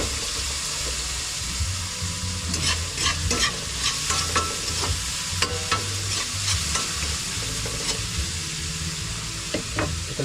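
Eggplant adobo ingredients sizzle steadily in a pan while a utensil stirs and scrapes through them, with a few sharper clinks and a faint running-water hiss underneath; no talking.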